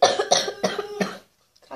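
A person coughs four times in quick succession, loud and close, then there is near silence with a faint sound at the very end.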